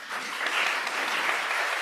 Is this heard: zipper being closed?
no